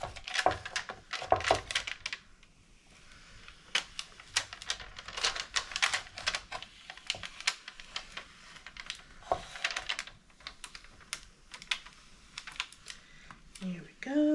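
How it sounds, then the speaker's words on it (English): Cut Cricut vinyl being peeled back slowly from its backing sheet for an Easter craft, heard as a close, steady run of small crackling ticks and sticky snaps with brief pauses, fairly quiet throughout. "Let's peel this back very carefully."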